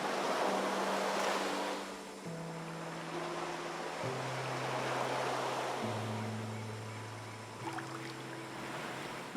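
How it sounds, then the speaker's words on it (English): Ocean waves rolling and washing continuously in the game Season: A Letter to the Future, a broad steady surf wash heard alone beneath sustained tonal music notes. "with the ocean waves."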